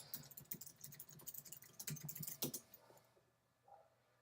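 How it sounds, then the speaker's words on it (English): A brand name typed on a computer keyboard, a quick, close run of light plastic key clicks in uneven bursts for about three seconds, then quiet room tone. "If we just type in their brand name"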